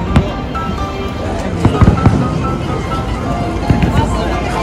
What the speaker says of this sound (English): Ayun ang fireworks.